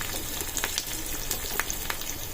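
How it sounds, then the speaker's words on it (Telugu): Spices, garlic and curry leaves sizzle and crackle loudly in hot oil for a dal tempering, a continuous close-up frying hiss with sharp popping bursts and no talking. "పప్పులోకి తాలింపు"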